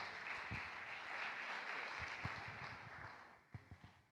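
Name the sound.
audience applause welcoming a pastor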